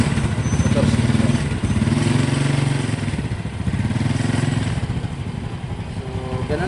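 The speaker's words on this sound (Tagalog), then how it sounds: "So ilalagay mo siya sa primera para at least makabuelo muna ang motorsiklo." The motorcycle engine of an adapted tricycle runs with a loud, steady, throbbing chug, close by and continuous as it is put into first gear. A voice speaks faintly beneath the engine noise.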